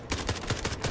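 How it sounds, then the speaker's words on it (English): Rapid rattling bursts of gunfire and blasts from the video game SCP 5K fill the clip, loud and dense with no speech over them. "Explosion."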